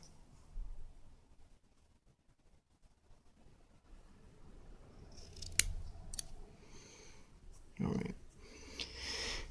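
Scissors snip through a cotton wick for a vape tank, a few quiet, close clicks and cuts with a sharp snip near the middle and another later, against a soft, near-silent background.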